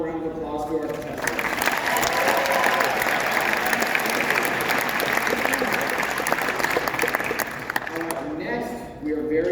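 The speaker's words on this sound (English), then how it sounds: "Let's give one final round of applause to our contestants." Audience applause for pageant contestants at a university Mr. and Miss competition, a loud, dense, steady clapping from a large crowd that swells in and continues for several seconds before tapering off at the end.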